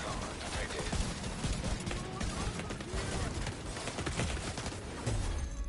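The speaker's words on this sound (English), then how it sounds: "There was just too much gunfire." Dense, continuous gunfire in Tom Clancy's The Division 2 on PS4 Pro, rapid bursts and explosions layered together, loud and chaotic throughout with no pause.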